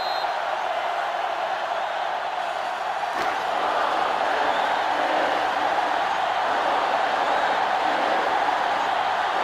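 Stadium crowd roar in the college football video game NCAA Football 2005, a steady, loud wash of cheering fans at a Penn State versus Notre Dame game, constant throughout with a brief dip near the middle.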